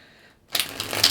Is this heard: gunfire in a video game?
no